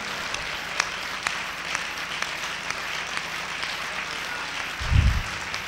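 Audience applause at a Hindi poetry recital, a steady spread of many hands clapping throughout with a brief low thump near the end.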